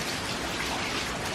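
Heavy rain from Hurricane Delta pours steadily in a Louisiana backyard, a dense, unbroken hiss of drops with no pauses and no voices.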